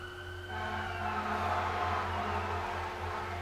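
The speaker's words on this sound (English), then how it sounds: "And it sounds like the fire department's out tonight." Fire engine siren passing outside at night, a faint wailing tone rising from about half a second in and holding steady over a low constant hum indoors, with no one talking.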